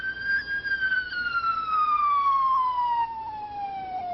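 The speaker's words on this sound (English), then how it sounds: "We ran the siren on the patrol car" Highway patrol car siren wailing in a long, steady descending tone, clear and fairly close with harmonics, alone without talk.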